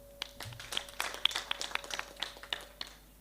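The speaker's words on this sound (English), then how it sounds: "once again, let's give a clap" An audience at a Mtangazaji Sacco AGM claps: quiet, scattered sharp claps in an uneven rhythm for a few seconds, heard alone in a hushed room.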